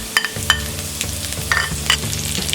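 Almonds and raisins are dry roasted in a pan for mango sheera, with scraping stirs and light rattling taps over a soft sizzle, close and without speech.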